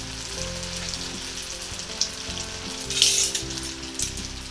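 Ube turon frying in hot cooking oil, a steady close sizzle and crackle with bursts of spatter, running alone without talk.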